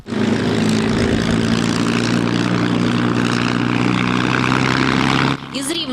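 Vintage propeller airplanes of a British royal flying club, some over a century old, drone loudly and steadily at close range during a refueling stop in Rivne, with the engine roar cutting off abruptly near the end.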